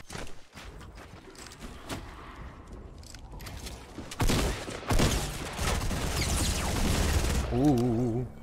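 Gunfire in a shooting video game: scattered shots early on, then louder bursts and rapid volleys in the second half, mixed with game effects and a brief tonal sound near the end.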